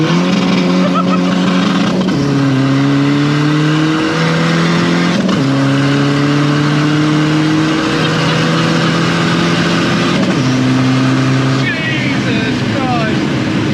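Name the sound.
500bhp Seat Ibiza FR diesel accelerating with wheelspin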